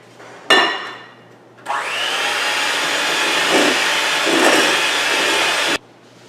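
Dark brown sugar and white sugar with unsalted butter being mixed in a bowl for low-sodium yam cookies, a steady loud mechanical whir running for several seconds after a brief initial burst, with no talking.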